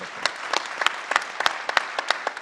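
A crowd at an event honoring a Southern California Gas Company vice president claps in a dense patter of overlapping hands, with individual claps popping out irregularly, close and fairly loud.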